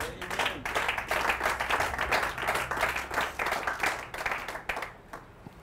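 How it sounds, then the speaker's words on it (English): A church congregation claps vigorously during a sermon, a thick, continuous burst of many hands that swells and pulses before tapering off near the end. "clap for yourself"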